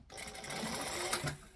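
A sewing machine runs a quick burst of stitching across the bottom of a travel tote, a fast rattling whir from start to stop, close and clear, ending abruptly.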